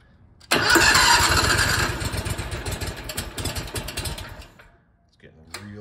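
Engine of a 1980 Rounder L600 motorhome cranks and catches with a loud, close roar. It runs rough for a few seconds, fades, then gives a brief final sputter.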